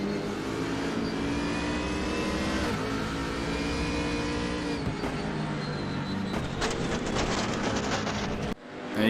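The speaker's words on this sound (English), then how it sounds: "Revving the engine hard there." Race car engine revving hard during a race at Suzuka in a racing video game, a loud, continuous roar with rising and falling pitch that cuts off abruptly near the end.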